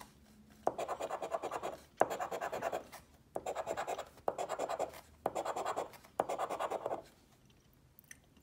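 A $20 lottery scratch ticket being scratched off, with six crisp, close bursts of rasping coin-on-card scraping separated by short pauses.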